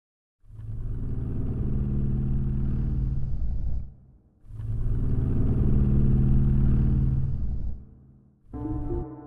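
Grizzly Audio Origins braam number 5, a big, thunderous trailer sound-design effect: two long, loud, low brassy blasts with a brief gap between them, then a shorter third hit, heard alone.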